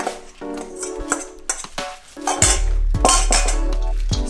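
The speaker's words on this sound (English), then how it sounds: "I'm just gonna mix the whole thing into here" Green papaya salad with squid and shrimp mixed by hand in a bowl, giving close wet squelching and stirring with a few clinks of a bowl or utensil, growing louder and denser in the second half.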